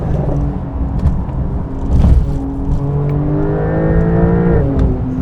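A Porsche 911 Turbo S accelerates hard, its engine note climbing steadily through rising pitch with a gear change near the end, heard continuously from inside the car with no talk.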